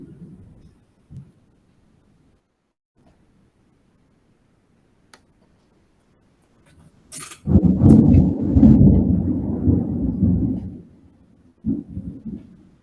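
Rain and rolling thunder on the road, mostly quiet at first, then a heavy rumbling swell for several seconds followed by another brief rumble.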